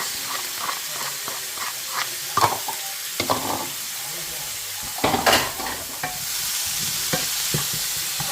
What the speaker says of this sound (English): So it says cook until they're all sauteed